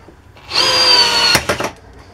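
A Workzone 12V cordless drill at its highest torque setting whines up sharply as it drives a screw, holds a steady motor tone for under a second, then stalls into a few quick, jerky bursts before stopping.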